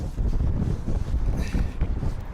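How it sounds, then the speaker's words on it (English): Strong wind blows outdoors and buffets the microphone: a loud, steady, low roaring rumble that fills the whole stretch with no voices. "It is very windy here"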